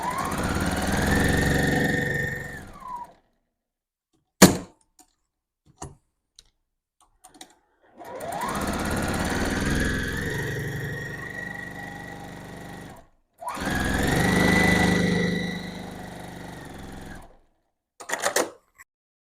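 A sewing machine stitches diagonal quilt seams for half-square triangles in three whirring runs of a few seconds each, separated by quiet pauses with sharp clicks and clunks of handling.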